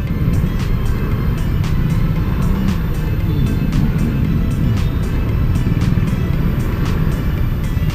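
Heavy, congested road traffic with many motorcycles, a loud, continuous engine roar and rumble that stays close and steady throughout, with no talking.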